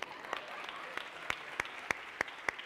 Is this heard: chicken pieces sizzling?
no